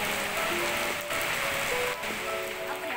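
Steady rain falls on an open-air rooftop area with a jacuzzi at a three-star hotel in Banjar, Central Java, a continuous broadband hiss with faint tonal hums underneath and no talk.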